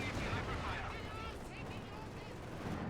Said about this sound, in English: It's the max range barrage.